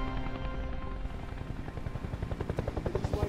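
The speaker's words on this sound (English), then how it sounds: "get a hold of the news station and get rid of that chopper? I can barely hear myself think." A news helicopter flies overhead, its loud rotor chop beating steadily and growing more pronounced, a close, continuous thudding drone.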